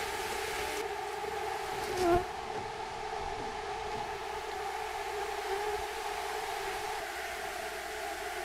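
Bees swarm around an opened log hive near a river homestead, a steady close buzzing drone that holds for several seconds, with a brief louder knock partway through.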